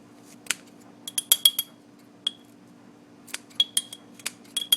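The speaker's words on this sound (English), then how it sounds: "what I usually just do is just give it a few chops, just so it's not great big pieces" A knife chops horehound herb on a board in a handful of sharp, irregular clicks and taps, some in quick clusters, over a quiet steady hum.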